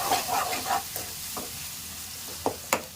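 Chopped onions and ginger-garlic paste fry in oil for a home-style chicken curry, giving off a close, continuous sizzle. A spoon stirs and scrapes the pan several times, with a few sharp clicks near the end.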